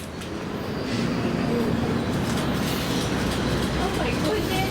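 A freight train rumbles past close by in Kansas City, a dense, continuous roar of wheels and rails with faint clatter throughout.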